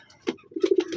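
A pigeon, one of three birds packed in a cardboard box for shipping, gives a short, close, throaty coo with a few quick pulses, alone and clear.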